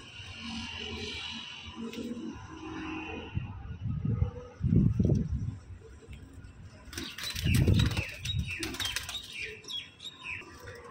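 A pigeon, one of a flock of flying birds kept for sale, beats its wings in two short, loud flurries of flapping close by, with faint chirps and background noise between the bursts.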